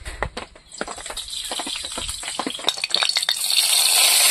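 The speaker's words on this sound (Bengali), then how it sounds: "এবার চিংড়ি মাছটা ভেজে নেবো।" Prawns rubbed with salt and turmeric frying in a pan for a Bengali bottle gourd and prawn dish, a crackling sizzle with sharp spattering pops that builds steadily louder toward the end.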